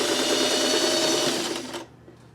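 A sewing machine stitching pink and green fabric together at normal speed, giving a loud, steady, rapid whirring chatter that runs for nearly two seconds and then stops abruptly, leaving a quiet room.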